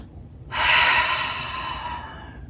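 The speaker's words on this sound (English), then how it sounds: "Let's take a breath." One deep, audible breath taken during a yoga class, starting abruptly after a short silence as a close, breathy rush of air that slowly fades away.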